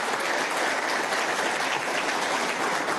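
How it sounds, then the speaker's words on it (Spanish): Steady applause from an audience at a meeting with a national supermarket association, dense and even clapping throughout with no voices over it. "sí, es motivo de aplauso, ministra Deli, sin duda."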